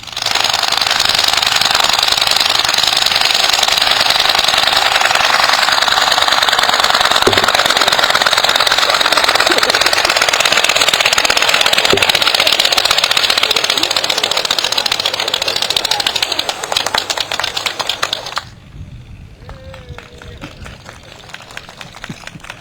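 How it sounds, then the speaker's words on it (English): A Blériot XI early airplane engine roars steadily at close range with a loud, rattling, rapid clattering drone that cuts off abruptly near the end, leaving faint ticking. "This is the sound of a Blériot 11."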